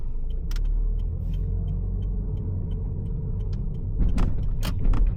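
A car drives slowly through streets while hunting for a parking spot, a steady low engine and road rumble running throughout with a few brief clicks and rattles toward the end.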